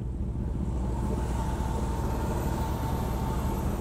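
Steady road noise from a car moving along a highway on a Sunday ride near Lonavala, a continuous low rumble and hiss that holds at an even level throughout, with no voices.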